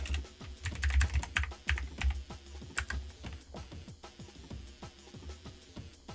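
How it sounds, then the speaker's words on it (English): Rapid, uneven clacking of keys on a computer keyboard while coding on an Amiga, close and steady with brief pauses between bursts. "Be quicker typing it."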